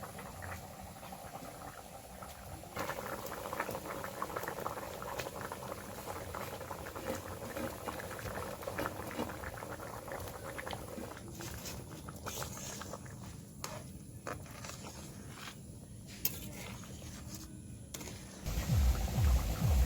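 Chana dal curry broth boils steadily in a pot on the stove, a dense, continuous bubbling and simmering throughout, with a louder clattering burst right at the end; no one speaks.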